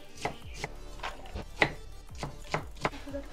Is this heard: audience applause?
no